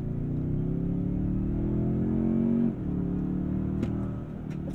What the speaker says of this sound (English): I kind of like the noise of that engine.